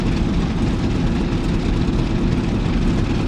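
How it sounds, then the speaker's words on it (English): A simulated Corsair fighter's radial aircraft engine from the DCS flight game runs at start-up, a loud, steady, low rumbling drone with no voices over it. "Now let's start the engine."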